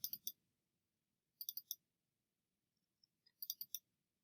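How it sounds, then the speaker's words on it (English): Three quick pairs of computer mouse clicks, each a crisp double click, spaced a second or two apart over a faint background hum while working in Logic Pro music software. "If I double click on it"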